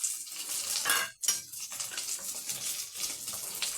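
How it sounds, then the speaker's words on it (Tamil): Tamarind water is poured into a hot cooking pan beside frying vegetables for a brinjal and green cowpea kara kuzhambu, giving a bright hissing sizzle with a brief pause, then continued quieter spattering and faint utensil sounds. "இந்த சைடு வந்து நம்ம புளி தண்ணியை சேர்த்துடலாம்"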